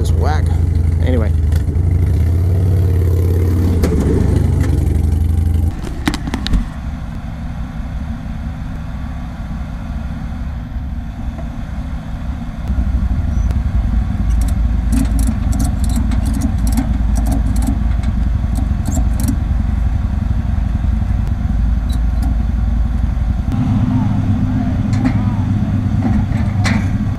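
Harley-Davidson Dyna club-style motorcycle being ridden with a slipping clutch: a loud, continuous engine drone that shifts pitch as it revs and settles, mixed with wind rush, and someone talks over it.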